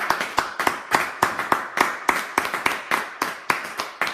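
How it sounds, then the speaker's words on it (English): Hand clapping from a small audience, about two claps per second in a steady, slightly uneven rhythm, close and fairly sharp, with no talking over it. "let's give him a round of applause"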